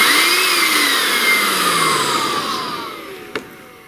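Bissell Pet Hair Eraser handheld vacuum with a metal impeller: a steady, high motor whine that slowly drops in pitch and winds down, close up, ending with a brief click.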